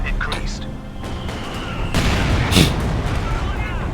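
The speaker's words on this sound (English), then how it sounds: "my mortar managed to reduce the health of this fighting position" Mortar fire in Company of Heroes 2, with a loud booming impact near the midpoint and a sharper burst shortly after, set against dense continuous battle noise with scattered gunfire.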